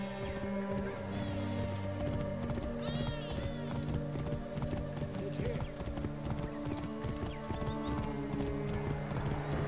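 Horse hooves gallop in Assassin's Creed Origins while riding through Alexandria: a steady, rapid clip-clop of hoofbeats runs throughout, mixed with game music and ambient effects.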